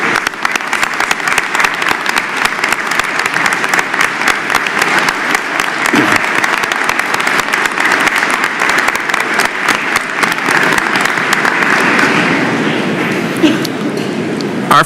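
An audience at a spring university commencement gives sustained loud applause for graduates' families, dense clapping from a large crowd that holds steady throughout with faint murmur underneath.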